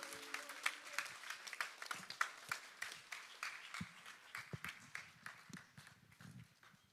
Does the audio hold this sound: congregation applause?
yes